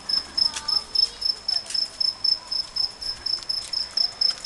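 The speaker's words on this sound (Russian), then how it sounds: "Слышно сверчки." Crickets chirp steadily in pulsing, rhythmic bursts along a garden path leading toward the sea, a continuous high trill with no talking.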